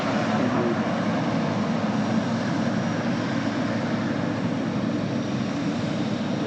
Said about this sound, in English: That noise as the aircraft vacated.